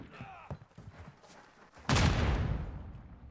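A frag grenade detonates in a video game: one sudden, loud blast bursts in after a stretch of quieter, scattered game noise, then rolls into a long, rumbling tail that fades slowly.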